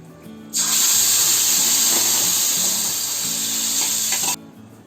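Loud, steady sizzling as sweet chutney hits hot tempering oil with asafoetida, starting abruptly and hissing for about four seconds before cutting off.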